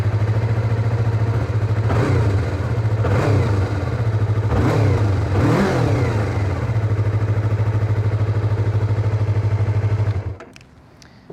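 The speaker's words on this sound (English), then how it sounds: "So as the revs rise, you get that nice kind of real sports bike, kind of similar to an inline four kind of scream" A 2019 Yamaha YZF-R3 sports bike engine revs in four rising bursts over a steady low idle, each blip climbing toward a muted scream, then cuts off near the end.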